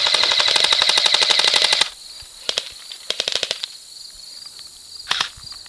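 Rapid automatic gunfire rattles loudly in the World War II shooter Brothers in Arms: Hell's Highway, then shorter bursts and single shots follow against quieter game ambience.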